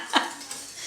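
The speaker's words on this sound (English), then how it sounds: "You have to keep whisking." A whisk clinks once sharply against a pot while warm milk is stirred into a white sauce for homemade lasagna, followed by a soft, steady swishing.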